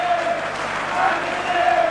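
Crowd applause at a rugby league match between St Helens and Oldham, a steady broad wash of clapping from the stands sustained for two seconds under a commentator's voice.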